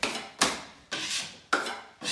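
Drywall mud is spread over a taped joint with a 4-inch bedding knife in four long rasping strokes, each starting with a sharp scrape and trailing off, close and alone.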